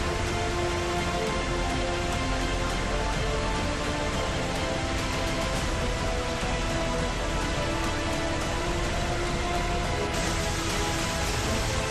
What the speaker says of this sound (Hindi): भारी बारिश, बाढ़ जैसे हालात